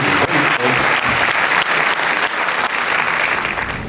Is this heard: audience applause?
yes